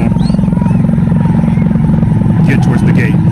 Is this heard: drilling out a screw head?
no